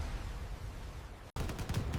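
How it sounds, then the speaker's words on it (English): Gunfire sound effect in a WWII documentary about a ship under kamikaze and bomber attack, a dense, loud burst of shots that cuts out briefly and then resumes with sharper cracks. "a hail of gunfire blasts through the structure"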